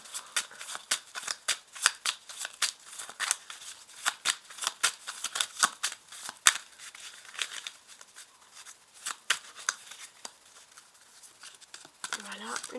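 Cards being shuffled and drawn in a tarot-style reading, a long run of quick crisp riffles and slaps at close range, with a soft voice in the background.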